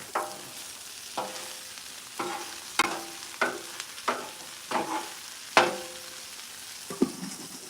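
Food being raked into a pile with a metal spatula on a hot Blackstone griddle, with repeated sharp scraping strokes about once a second over a steady sizzle, close up and with no talking.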